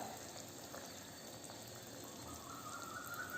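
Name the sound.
tamarind water boiling with ginger in a pot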